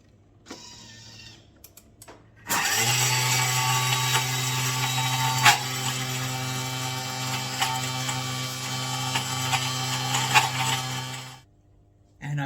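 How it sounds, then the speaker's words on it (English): A Thermomix milling lemon zest and sugar at speed 9 roars as a loud, steady high-speed whir for about nine seconds and then stops abruptly. A faint, brief lower whir comes before it. "Zest, sugar into the bowl, and we'll pop the lid on. Mill for speed 9"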